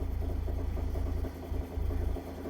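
An airbrush compressor runs steadily close by, a continuous low motor hum with slight pulsing variations and no talk over it.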